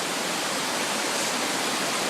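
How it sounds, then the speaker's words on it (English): A tall glacier-fed waterfall at Paradise Park on Mount Hood, Oregon, heard as a loud, steady, broadband roar of falling water with no break throughout. "Amazing waterfall. Look how high up it goes."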